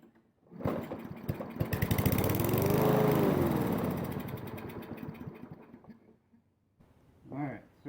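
A small lawnmower engine, choke propped open after fresh fuel was added, sputters to life, surges loudly for several seconds, then dies away; someone speaks briefly near the end.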